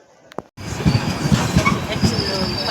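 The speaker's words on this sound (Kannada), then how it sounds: "ಟ್ರೈನ್ ಬಂತು." A passenger train pulls into a station with loud, close rumbling, rhythmic wheel clatter and high metallic squeals after a short quiet start with a brief tone.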